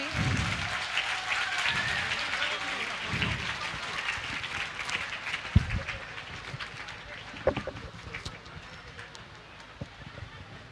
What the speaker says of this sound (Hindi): मैं चाहती हूँ आप सब जोरदार तालियों के साथ खड़े होके स्वागत करें